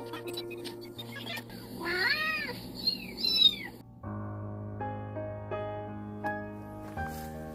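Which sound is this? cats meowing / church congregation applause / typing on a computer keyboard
cats meowing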